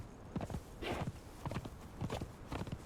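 Horse hooves clopping at a steady riding gait in Conan Exiles, Isle of Siptah, a regular rhythm of soft thuds with no talk over them.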